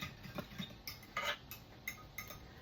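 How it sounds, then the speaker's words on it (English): A whisk clicks against a bowl while sugar and dry yeast are mixed into water and milk for English muffin dough, quiet irregular metallic taps and clinks, close and alone. "and then we're going to whisk that together"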